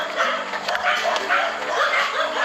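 Several dogs bark and yip together in a dense, continuous chorus close by, with people's voices mixed in.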